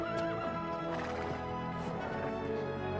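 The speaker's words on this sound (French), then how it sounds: "ce cheval est encore rétif" A restive horse gives a loud, close whinny, shrill rising and falling calls repeated across a few seconds, with faint hoof clatter underneath.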